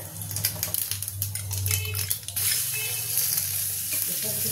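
Whole cumin and chopped garlic fry in hot oil for dal, producing a loud, close, continuous crackling sizzle that is busier at first and then settles into a steady hiss.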